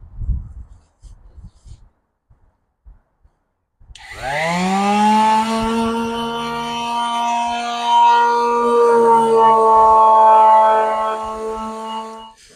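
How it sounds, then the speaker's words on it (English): After a few seconds of soft knocking, a loud power tool whines into a sustained high buzz that holds steady to the end, close and strong. "I gave everything a good sand all over using different sandpaper and blocks and the orbital sander"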